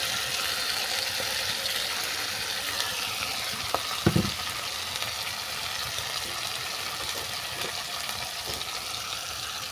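Chicken pieces go into hot oil in a pan already frying dried red chillies and bay leaf, producing a continuous close sizzle with a brief clatter near the middle as they are stirred, no voices.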